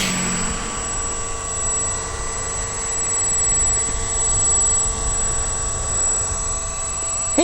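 An Avios BushMule V2 twin-propeller RC model plane flies over a snowy winter field, giving a steady, moderately loud motor drone with a high whine that holds throughout, alone without talk.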